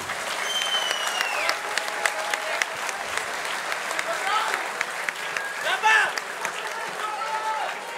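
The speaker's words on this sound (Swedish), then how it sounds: "En applåd för det här!" Loud crowd applause and cheering fill the arena after an MMA fight at the FCR 3 event, dense and continuous, with an announcer's voice over the noise.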